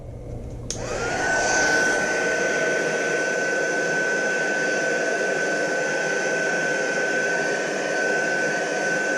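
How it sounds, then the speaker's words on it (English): A heat gun switches on with a click and blows a loud, steady whining rush while softening the emblem on a Honda Goldwing fairing, heard up close and alone. "Once I get to a point where I can't move anymore, use the heat gun again."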